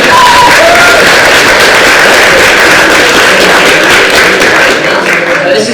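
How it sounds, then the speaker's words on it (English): Very loud, dense applause from an audience at a startup pitch event, continuous clapping with faint cheers and crowd noise sustained for several seconds. "Let's give a round of applause for these guys who are brave enough to do that"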